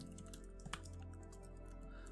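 Soft, rapid keystrokes on a computer keyboard while a name is entered into an online survey form, faint and close, over a steady background hum.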